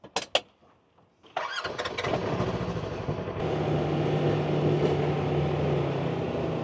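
Polaris Razor Trail S UTV engine cranking over and catching, a few clicks and short bursts giving way to a steady rumbling idle, close and loud throughout.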